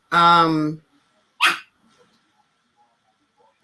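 A dog barks once during a live boxing talk show taped at home, a single drawn-out, close, fairly loud bark followed by a short breathy noise, then near silence.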